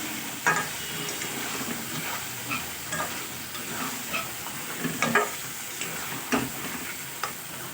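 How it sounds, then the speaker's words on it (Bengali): Fried flat beans and potatoes are stirred into an oily spice paste in a pan, with a steady sizzle broken by irregular scraping strokes of a spoon, close and without speech. "এবারে আমি ওই ভেজে রাখা ছিম আর আলু একসঙ্গে দিয়ে দেবো দিয়ে আমি এটাকে খুব ভালো করে মিশিয়ে নেব"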